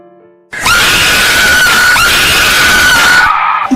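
An old woman's horror-story scream, a sudden, piercing and very loud wail held for nearly three seconds before breaking off, with no talk over it.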